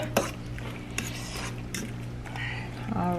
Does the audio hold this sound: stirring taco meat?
yes